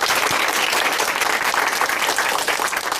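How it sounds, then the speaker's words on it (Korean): A church congregation at Chuncheon Hanmaeum Church gives thanks with loud, dense applause, continuous clapping filling the full three seconds without a break. "우리 하나님께 감사의 박수"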